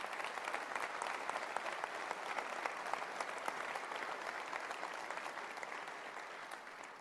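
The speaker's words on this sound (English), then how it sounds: "And I would like to give a round of applause." Sustained applause from a large conference audience at a VMworld Europe 2011 general session, steady and dense claps throughout with no talking.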